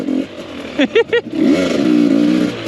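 Motorcycle on a mountain trail, engine rumbling steadily near and loud, with a few sharp throttle blips in quick succession before settling into a sustained drone.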